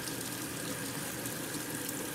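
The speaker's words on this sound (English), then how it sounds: "And now she fills water." Steady rushing of water pouring into a Magic Chef 0.9 cubic foot portable washing machine, a continuous broadband hiss with no pauses, fairly quiet and close.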